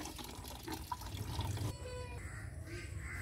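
Water poured out for ducks in a home yard, a soft splashing trickle running under background sounds, with a brief voice near the start.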